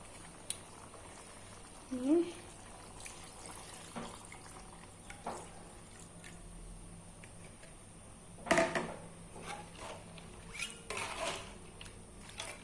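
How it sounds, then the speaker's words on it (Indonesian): Aceh goat curry with coconut milk simmers in a pot, giving soft, faint bubbling and occasional small pops and clinks, quiet and continuous. "Dan ini kita masak lagi sampai airnya menyusut dan dagingnya empuk ya."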